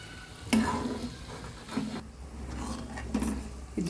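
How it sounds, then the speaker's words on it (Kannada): Herbal hair oil simmers in a pan on a low gas flame, giving a soft, steady sizzle broken by a few sharp clinks and scrapes of stirring. "ಇದನ್ನು ಸಣ್ಣ ಉರಿಲೇ ಕುದಿಸ್ಬೇಕು. ತುಂಬ ಜೋರು ಉರಿ ಇಟ್ಕೋಬಾರ್ದು ಗ್ಯಾಸು."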